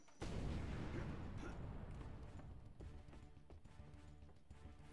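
Grenade explosions in the Jak and Daxter: The Lost Frontier video game, a loud sustained rumble of blasts with scattered sharp bangs over several seconds, no voices.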